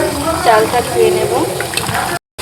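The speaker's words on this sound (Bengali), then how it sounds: "গোবিন্দভোগ চালটা ধুয়ে নিচ্ছি।" Gobindobhog rice is rinsed in water in a home kitchen, with splashing and running water that swishes for about two seconds before a brief silent gap. A voice talks over it.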